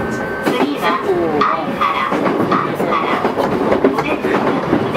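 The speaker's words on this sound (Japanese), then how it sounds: "この電車は横浜線各駅停車八王子行きです。" A JR Yokohama Line E233 series train runs on a rapid service from Sakuragicho to Hachioji, with steady loud rolling rumble and rhythmic wheel clatter heard from inside the car while an onboard announcement plays over it.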